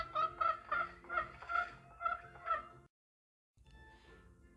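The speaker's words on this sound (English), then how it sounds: "The Kadaknath came from Madhya Pradesh." A Kadaknath chicken, a Madhya Pradesh breed, clucks and calls in a run of five or six close, rhythmic bursts, then falls silent briefly before fainter sounds resume.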